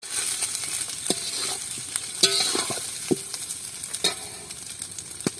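Cooked rice tipped into a hot pan with cashews and raisins and stirred while frying, giving a steady close sizzle broken by several sharp scraping and clattering strokes of the spoon.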